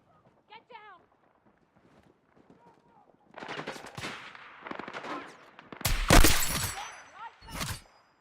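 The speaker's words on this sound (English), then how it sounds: "Hostile machine gun." Battlefield in a video game: after quieter moments and talk, a loud, close burst of rapid machine gun fire hammers out, followed by a second shorter burst, with voices speaking around it.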